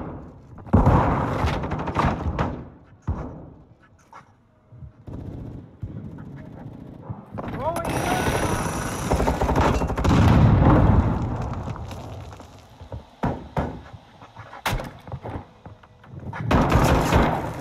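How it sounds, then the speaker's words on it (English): Gunfire and explosions in Call of Duty Modern Warfare II multiplayer, dense bursts of shots and booming blasts rolling together, some sharp cracks standing out near, others blending into a heavy, continuous battle din. "Taking effective fire."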